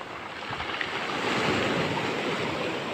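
Strong storm waves on the Black Sea surge against the high shore at Anapa, a loud, continuous roar of surf with heavy wind buffeting the microphone and no voices.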